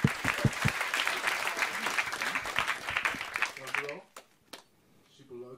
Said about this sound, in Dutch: Applausje voor Frank.